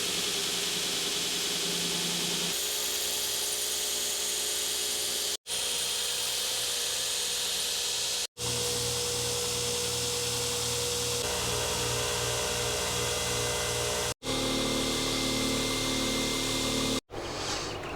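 A grinder works an O1 tool steel knife blade, giving a loud, steady abrasive whine in long continuous passes broken by a few brief stops, with no voices.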